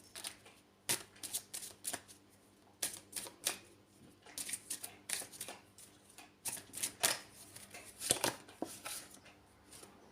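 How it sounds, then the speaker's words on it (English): A deck of oracle cards is shuffled by hand, with repeated crisp riffling bursts in uneven clusters, close and fairly quiet, no talking. "So I'm just going to pull a Heal Yourself card from Inner Sigil."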